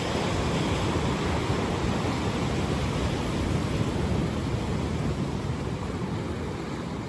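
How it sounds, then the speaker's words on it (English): Gentle ocean surf in Hawaii forms a steady, unbroken wash of soft rushing noise at an even level throughout, with no distinct wave crashes and no voices. "Continue focusing on the gentle sounds of the water."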